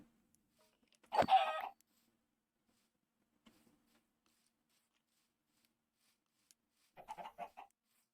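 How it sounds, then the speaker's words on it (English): Chickens cluck in the video game Minecraft, giving two short, clear bursts of clucking several seconds apart, separated by near silence. "So, hey, there's some more chickens."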